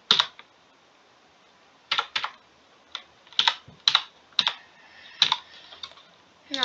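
Keys clacking on a computer keyboard, sparse irregular clusters of sharp clicks separated by brief silences, close-miked and fairly soft, with no talking.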